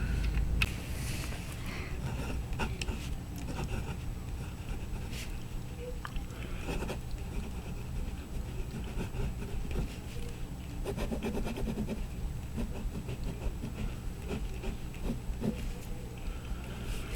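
A PenBBS 499 brass fountain pen with a fine nib writing on paper, giving a soft, continuous close-up scratch and rub with small pen-stroke bursts and no talk.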